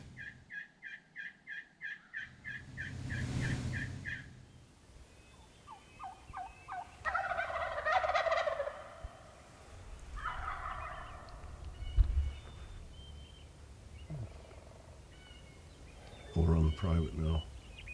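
Wild turkeys gobble from the roost on a spring morning, with several gobbles and rapid yelping calls in bursts, some near and some farther off, over faint rustling and low murmured voices.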